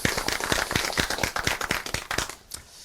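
A small audience at a local community broadcast event claps in a brief burst of distinct, fairly close hand claps in an uneven rhythm that tapers off toward the end.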